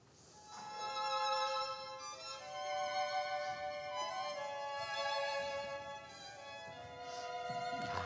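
Muted violins play soft, distant sustained lines in an orchestra, shifting gently between notes over a hushed background, evoking a far-off flowing river.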